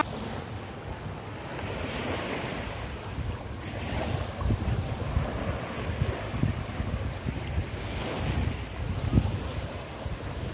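Waves wash steadily onto a long sandy beach, with a continuous roar of surf and gusts of wind buffeting the microphone. No voices are heard.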